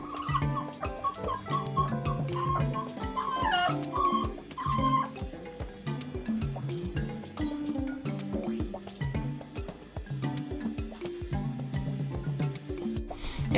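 Clucking hens amid a busy, rhythmic mechanical clatter, repeated sharp clicks and tones layered densely throughout at steady loudness, with no talk.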